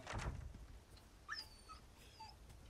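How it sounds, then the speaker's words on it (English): A dog whimpers in Resident Evil 4 Remake, giving a few faint, high, wavering whines over a quiet game background; no talk is heard. "Oh no, it's a doggy!"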